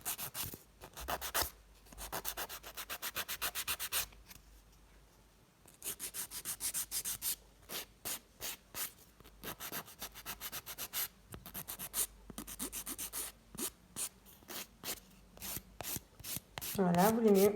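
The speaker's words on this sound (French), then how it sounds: "vous limez aussi au-dessus si vous trouvez que c'est trop épais" Nail file rasping across fingernails while shaping them, quiet and close, in bursts of quick rhythmic strokes separated by short pauses, ending with a brief rustle.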